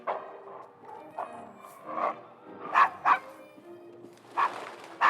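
A dog barks and woofs repeatedly in Assassin's Creed Syndicate, several sharp close barks at irregular intervals over a quiet background, with no talking.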